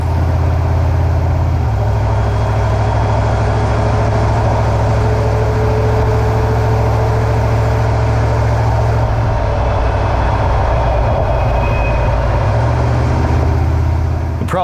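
Road noise from a car on a test drive with a suspected differential fault, a loud, constant low rumble and drone with a faint whine on top, steady throughout.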